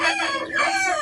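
A rooster crows close and loud, one drawn-out call filling the short moment alone.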